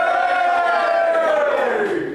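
A live show audience shouts and cheers on cue, a loud sustained roar of many voices with rising hollers that swells and then tails off.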